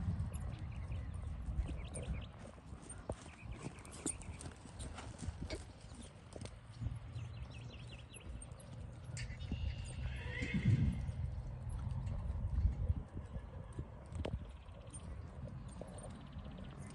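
A horse performing a dressage test at a novice-level spring horse trial whinnies and moves with soft hoof clip-clops, heard from a moderate distance over outdoor background noise with no talking.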